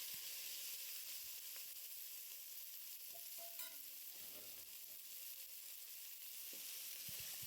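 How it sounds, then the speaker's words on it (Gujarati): Chopped green onions drop into hot oil with cumin seeds and curry leaves for a Kathiyawadi brinjal bharta, giving a steady close-up sizzle with a few stirring scrapes and no talk. "હવે આપણે એમાં લીલી ડુંગળી નાખી દઈશું"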